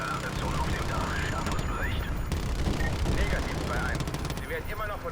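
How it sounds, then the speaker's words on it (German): Minigun fire in Call of Duty Modern Warfare 2 Remastered, a dense continuous rattle of rapid shots mixed with rumbling explosions and battle noise, heard under a voice talking. "So, also jetzt gibt es ein bisschen Minigun-Action."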